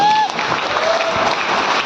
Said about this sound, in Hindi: जोरदार ताली होगी